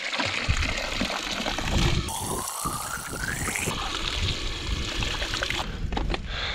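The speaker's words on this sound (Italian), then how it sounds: "quindi ora tappo la fontanella." A steady stream from a public drinking fountain runs outdoors, filling water bottles with continuous close splashing and trickling.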